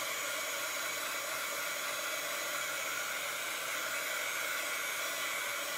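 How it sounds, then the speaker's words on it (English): A Pro Heater craft heat tool, used for drying paint and embossing, runs continuously with a steady airy blowing whir and hum, even in level and uninterrupted. "So I'm just taking my dryer. This one happens to be the Pro Heater."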